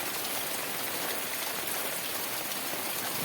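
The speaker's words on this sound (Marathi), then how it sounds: "पाऊस कंटिन्युअसली सुरू आहे तो बघा पूर्ण काळोख केला आहे पावसाने आणि काल रात्रीपासून बरसतो आहे" Steady, continuous rain falls on Konkan rice paddies: a dense, even hiss that stays loud and unbroken throughout, with no voices.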